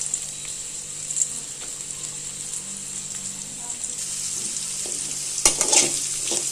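Onion, garlic and ginger sauté in a pan for a goat head curry, giving a steady soft sizzle throughout with faint stirring scrapes and a brief louder clatter near the end.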